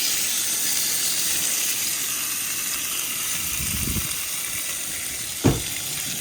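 A worm sautés in butter in a pan over low heat, giving a steady hiss and soft sizzle, close and moderate, with a low rustle near the end and one sharp tap.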